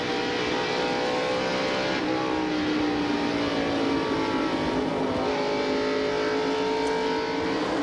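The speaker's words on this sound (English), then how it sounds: "Greg Sachs, who is being passed on the outside of the racetrack" NASCAR stock cars racing at the 1989 Busch 500, heard from inside a car: a loud, continuous engine roar with steady revving and shifting pitch as another car passes on the outside.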